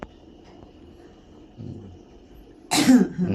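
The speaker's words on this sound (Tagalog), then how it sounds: "Ayan, inuubo-ubo na." A single short cough, fairly close and clear, after a quiet stretch with faint background noise.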